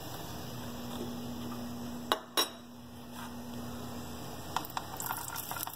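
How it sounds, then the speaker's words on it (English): Onions sizzle in a hot pan on a stovetop burner: a soft, steady frying hiss builds toward the end, broken by a couple of sharp metallic clinks from the pan and utensils. "Start to hear the sizzle."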